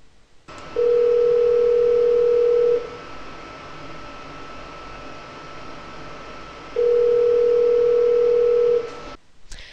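A telephone call placed by click-to-call through an Asterisk PBX from Zimbra produces two long, steady ringback tones about two seconds each with a pause between, clear and loud over faint background hiss, with no talking.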